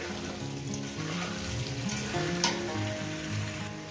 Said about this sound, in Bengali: আলুগুলো লাল লাল করে সুন্দর করে আমি ভেজে নেব